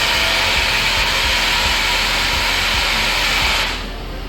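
A BlendJet portable blender whirs loudly and steadily, its motor buzzing continuously for about three and a half seconds before cutting out on its own and leaving a quieter hum.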